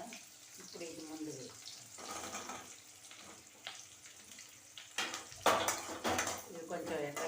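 Pointed gourd (parval) and potato curry frying in a pan, with a steady sizzle under clinks and scrapes of a utensil against the pan and a louder stirring clatter toward the end; a voice talks intermittently over it.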